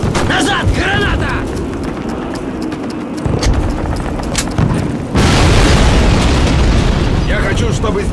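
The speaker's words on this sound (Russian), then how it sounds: "Назад, граната!" Grenade explosion in a Call of Duty battle: a heavy boom bursts in midway and sustains a roaring rumble, amid ongoing gunfire, combat noise and shouted voices.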